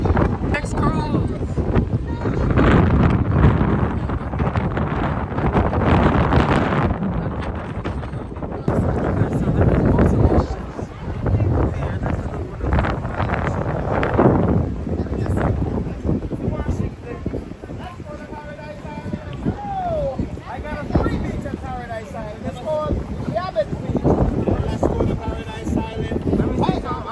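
Strong wind buffets the microphone at the Nassau cruise port in the Bahamas, loud rumbling gusts throughout with a person talking over it and some calmer moments near the end.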